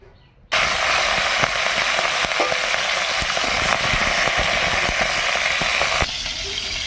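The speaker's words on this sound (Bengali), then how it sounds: "তেল গরম হয়ে গেছে তো মোচার জন্য আমি কটা চিংড়ি ভেজে নিচ্ছি" Shrimp frying in hot oil, a steady, dense sizzling, close and loud, with occasional clicks of a utensil stirring the pan.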